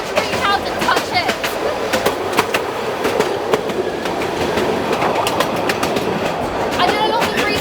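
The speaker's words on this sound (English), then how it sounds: "One of the most scenic mountain train rides in the world." Narrow-gauge mountain train running slowly through the Bulgarian mountains, heard from on board: a steady rumble with repeated clickety-clack wheel beats on the rails throughout, fairly loud and continuous.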